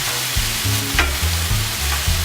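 Garlic and vegetables sautéing in a hot pan, a continuous close sizzle with rhythmic stirring scrapes repeating about every half second.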